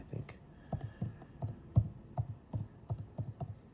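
Typing on a computer keyboard to enter a serial number, with irregular clusters of soft, close key clicks and taps at a moderate pace.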